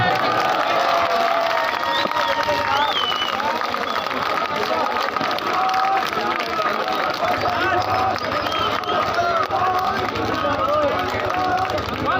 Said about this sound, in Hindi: तालियां बजती रहे अगर मुझसे मोहब्बत करते हो तो